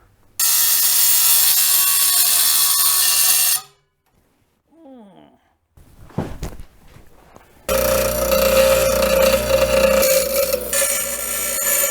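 Wood rods cut with a power saw for a scrap-built garden bench: a loud, steady cutting roar runs for several seconds, stops for a few small knocks and clatters, then starts again for a long second cut.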